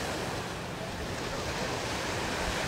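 Sea waves wash continuously onto the beach at Side, Turkey, a steady broadband surf roar mixed with wind buffeting the microphone.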